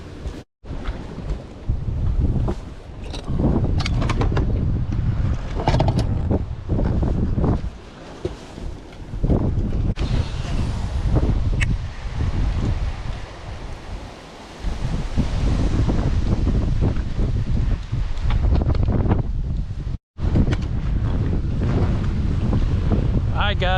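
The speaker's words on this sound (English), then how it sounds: "We're kind of sick of this wind. It's like 30 miles an hour now out here" Strong wind of about 30 mph buffets the microphone on a river while bass fishing from a boat, a constant loud roar with gusty surges and water noise, and voices speak faintly beneath it.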